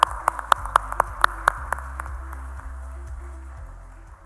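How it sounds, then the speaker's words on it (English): Conference audience applause opens with a quick run of sharp, rhythmic claps for roughly the first second and a half, then thins into softer scattered clapping that fades toward the end. "Give him a big round of applause,"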